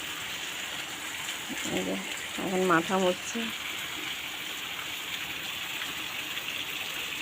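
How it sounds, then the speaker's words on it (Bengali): Steady rain pours down as a continuous, even hiss, with a short spoken remark partway through. "বৃষ্টি তখন দেখি আরও নেমে যাচ্ছে"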